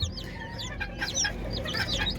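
Ispenc chicks newly hatched under a broody hen peep in high, repeated chirps close by, overlapping one another over a low hum with some clucking.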